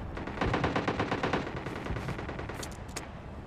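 Rapid automatic gunfire in PUBG Lite, dense rattling bursts of shots in quick succession, loud and continuous, with a few sharp metallic clicks near the end.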